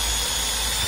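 A power drill runs steadily at maximum speed, giving a continuous high whine with a constant buzzing motor drone and no pauses in the short burst.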